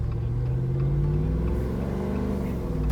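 A 2021 Jeep Wrangler JL with the Hemi 392 6.4-litre V8 drones steadily from inside the cabin, its low rumble rising slightly in pitch as it accelerates, loud and continuous with no talk.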